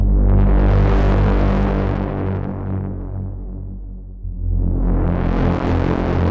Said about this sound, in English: Let's activate oscillator 2, add a sine wave,